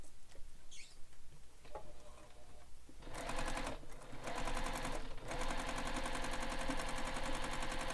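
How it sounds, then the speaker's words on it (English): A sewing machine stitches around a drawn box on a messenger bag, starting with quieter handling noises and then running in a loud, fast, continuous whir, broken by two brief pauses. "So where you drew, you're stitching right on top of that box."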